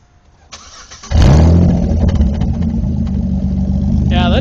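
A Pontiac G6 with a manual transmission and an aftermarket exhaust starts up with a sudden loud roar and then settles into a rumbling exhaust note, up close, as a voice speaks at the end.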